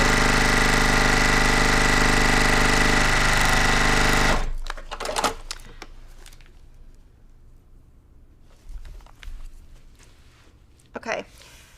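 A sewing machine stitches quilt pieces at a very short 1.2 stitch length, running steady and loud for about four seconds, then stopping, followed by quieter handling noises.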